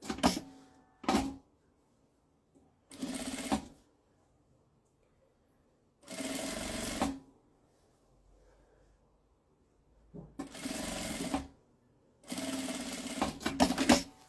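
A sewing machine stitches a seam joining lining fabric to a printed outer fabric for a small craft case. It runs in five short bursts of about a second each, separated by quiet pauses, close and clear, with no talking.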